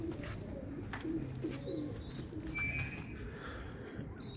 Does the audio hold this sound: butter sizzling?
no